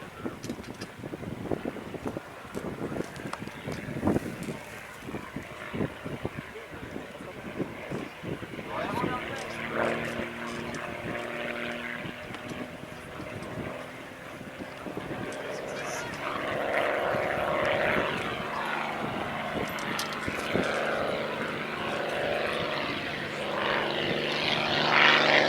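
A propeller airplane flies during an aerobatic display at an air meeting, its engine drone steady and moderately loud, swelling in the latter half, with a voice talking over it.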